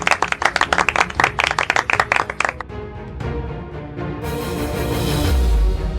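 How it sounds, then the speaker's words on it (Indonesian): An audience applauds at an award ceremony for a design competition winner, a burst of sharp close claps for about two and a half seconds that gives way to swelling background music. "Semuanya tepuk tangan."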